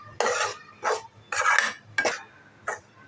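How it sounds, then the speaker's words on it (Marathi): Gram flour being stirred and roasted in a pan, heard as several separate scraping, rasping strokes a few tenths of a second apart, close and fairly loud against near silence between them. "आता अजून आपल्याला तीन चार मिनटं आपल्याला भाजायचं आहे"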